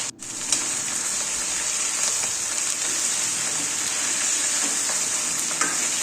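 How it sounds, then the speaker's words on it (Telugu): Curry leaves frying in hot oil in a pan while being stirred, a steady close sizzle throughout with occasional scraping clicks of the spoon and no talking. "బాగా కలుపుతూ వేయించుకోవాలి."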